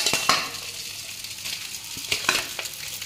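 Cooked chowmein tipped into a hot pan and stir-fried, a steady close sizzle with a few scraping stirs and soft clinks of utensil against the pan.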